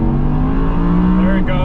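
An Audi R8 V10 with a naturally aspirated engine revs at high RPM from inside the car, a loud, steady, rising drone whose pitch climbs and then shifts near the end.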